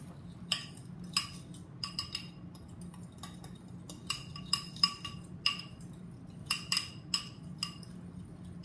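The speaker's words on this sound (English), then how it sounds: "then we're just going to stir them all together" Spice mix for blackened salmon is stirred in a bowl, giving a series of light, irregular clinks and taps of a utensil against the bowl, close and fairly quiet, with pauses between strokes.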